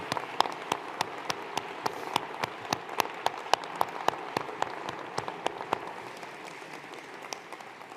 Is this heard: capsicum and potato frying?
no